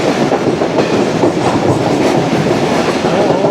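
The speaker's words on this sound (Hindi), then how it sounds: "बल खाती हुई खूबसूरत ट्रेन जा रही है मेहरान ब्रिज की जानिब" Passenger train rolling toward Mehran Bridge in Karachi, a loud, continuous rumble with rhythmic clickety-clack of wheels over the rails, heard close and steady throughout.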